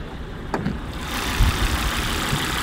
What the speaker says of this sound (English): The engine must be running at idle.